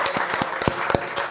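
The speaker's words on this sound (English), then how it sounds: "Give this man a round of applause," Applause from a live audience at a hip hop podcast taping at the A3C festival: a steady wash of many hands clapping, fairly close and loud, with sharper individual claps standing out through the whole burst.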